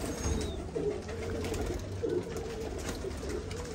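Royal Teddy pigeons in a breeding setup coo repeatedly in low, soft bursts over a steady background hum, several birds close by with no talking.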